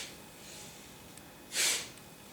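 A single forceful exhale pushed out through the nose during a yoga breathing exercise, a short close whoosh of breath against a quiet room.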